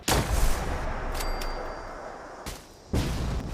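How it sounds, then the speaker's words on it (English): A CFC-S sniper rifle in a video game fires single loud shots, with one blast at the start and another near the end, each followed by a lingering rumble. "CFC-S is probably a more realistic sniper rifle, in that it actually does fire a single shot."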